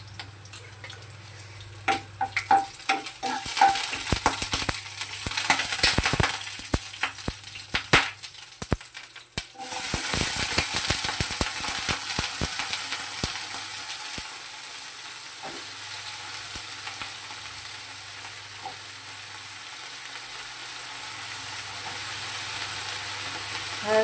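Banana pieces dropped into hot oil in a pan with curry leaves and green chillies, frying with a steady loud sizzle and hiss, scattered stirring clatters early on, then a continuous bubbling fry; no talking.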